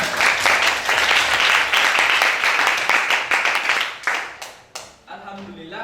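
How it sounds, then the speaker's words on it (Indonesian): Applause from a classroom of students, a dense, steady wash of many hands clapping at once that thins and tapers off near the end as a voice begins to speak. "Kasih tepuk tangan"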